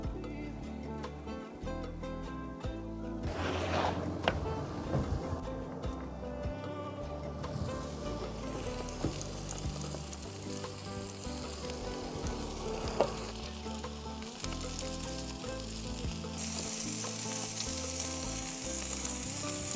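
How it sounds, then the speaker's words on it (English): A burger patty, bacon and onion sizzle on a barbecue grill, with a loud, constant crackling hiss close by, broken by occasional scrapes and sharper pops. "I got me burger cooking and then the bacon and that onion went on there"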